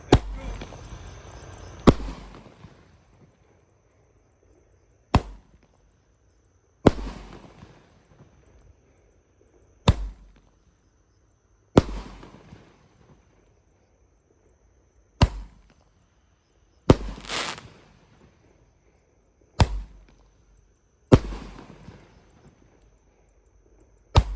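Roman candle fireworks for a New Year celebration fire in a series of about ten sharp, loud bangs spaced a few seconds apart, each crack followed by a crackling, fizzing tail that fades before the next shot.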